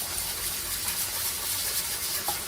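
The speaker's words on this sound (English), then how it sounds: "You just take this and scrub over top and run underneath the water." Tap water running steadily over the mesh screen of a Breville 800JEXL Juice Fountain Elite juicer as it is rinsed under a sink faucet, a continuous close gushing splash with no talking.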